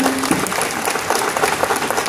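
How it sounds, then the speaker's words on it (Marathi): Steady clapping from a crowd fills the whole stretch, moderately loud and continuous with no voices standing out. "एकदा जोरदार टाळ्या त्यांच्यासाठी होऊन द्या"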